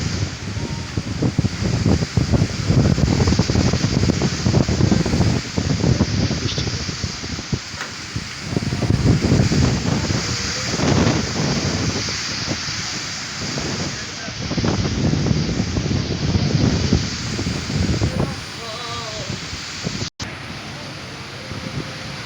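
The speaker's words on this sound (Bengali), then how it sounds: "অনেক বাতাস হইতেছে।" Strong cyclone wind at the Sadarghat river ghat on the Buriganga in Dhaka roars and buffets continuously, loud and gusty with surging rushes resembling waves, filling the whole stretch.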